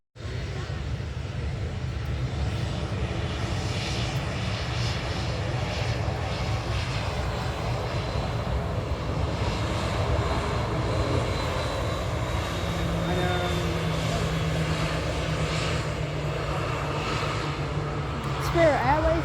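An Airbus A330 taxiing at Manchester Airport gives a steady, moderately distant jet engine whine and rumble that holds constant from start to finish.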